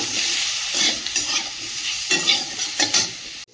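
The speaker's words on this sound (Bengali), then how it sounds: "পরিমাণ মতো লবণ দিয়ে ভালো করে কষিয়ে নেব।" Kashmiri chili powder and salt are sautéed and stirred in a pan, a close sizzle broken by repeated scraping strokes of a spoon, with no voices and an abrupt stop at the end.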